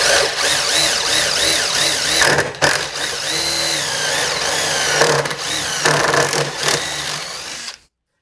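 Impact driver ratcheting as it bores a hole in a live edge wood charcuterie board, a steady loud buzzing hammer with brief pauses, stopping near the end.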